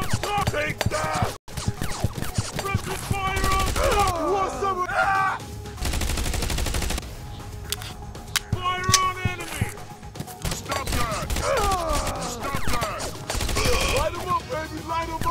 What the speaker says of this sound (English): I'll shoot these fools up! Press the fire on top!